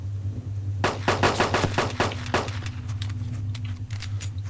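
Automatic gunfire in DayZ on Lingor Island: a fast, loud rattle of about a dozen shots over a couple of seconds, then sparser distant pops over a steady low engine-like hum.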